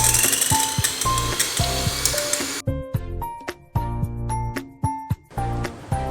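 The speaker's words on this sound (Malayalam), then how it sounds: "ഈ മുട്ട നമുക്ക് നന്നായിട്ടൊന്ന് ബീറ്റ് ചെയ്തെടുക്കണം." Two eggs beaten in a bowl, a run of sharp clinks and rattling taps of utensil against the bowl in quick irregular bursts, close and fairly loud.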